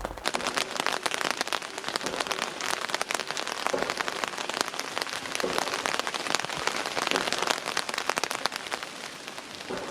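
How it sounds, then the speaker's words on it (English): Steady rain patters densely on outdoor surfaces, a constant hiss of close, crackling drops with no talk over it. "I don't know when the rain will end."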